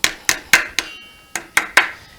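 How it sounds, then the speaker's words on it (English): A ball peen hammer strikes metal seven times in a quick, slightly uneven rhythm, each ringing hit close and loud with short decays, during a 4L60E transmission build. "I finally got a ball peen to make you happy"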